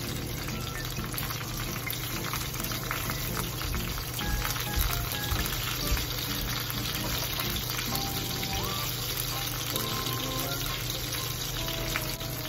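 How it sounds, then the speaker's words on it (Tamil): Crab pieces fry in a pan over medium heat, giving a dense, steady sizzle and crackle with occasional scraping as they are turned from side to side. "ரெண்டு பக்கமும் நல்லா மாற்றி மாற்றி போட்டு ஃப்ரை பண்ணிக்கணும்."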